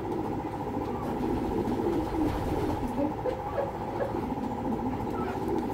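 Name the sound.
pigeon cooing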